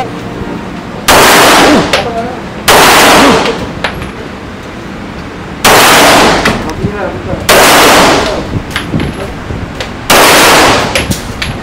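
Bursts of rapid gunfire at a shooting range, five loud sustained volleys separated by short pauses, with people talking between the strings of shots.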